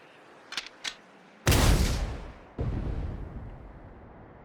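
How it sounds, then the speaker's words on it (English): A tank cannon in the Sand Land game fires one heavy, booming shot that rolls out into a long rumble, followed by a second loud blast; two faint clicks come before it. "Fire one shot right at the midpoint between Shiva and the Royal Army!"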